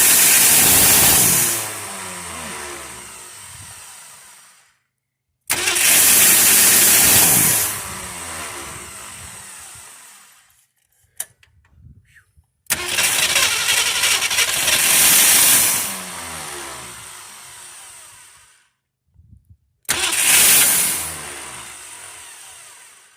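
An abandoned Ford Fairlane engine cranking and catching on its first start in 35 years: four loud bursts of churning, sputtering cranking that fade away between tries, separated by brief silences.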